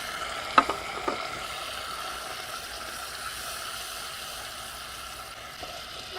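Chicken sizzles on a kamado grill as teriyaki sauce and brown sugar go in, a couple of clinks near the start and then an even, soft frying hiss that carries on alone to the end.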